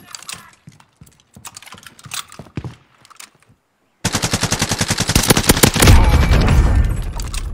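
Rapid, loud automatic fire from a Bren in Warzone Caldera, a tight rhythmic burst that runs for several seconds after a stretch of quieter clicks and faint clatter.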